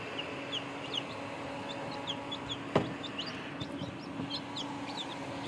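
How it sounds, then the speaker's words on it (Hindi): Newly hatched chicks peep in short, high, repeated chirps over a steady low hum, with one louder knock partway through and no voices. "ये देखें हमारे छोटे छोटे चूजे, ये अभी अभी अभी अभी आए हैं"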